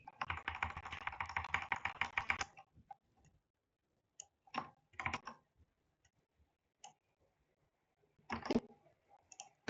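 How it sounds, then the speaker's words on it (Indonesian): Someone types a git command on a computer keyboard in a quiet room, with a quick burst of rapid keystrokes followed by a few sparse, isolated key clicks. "teman-teman bisa ketik git min v atau git min version"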